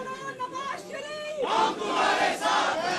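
A crowd at a lawyers convention chants slogans in loud, rising unison shouts, beginning after a short stretch of one voice and swelling into sustained rhythmic calls.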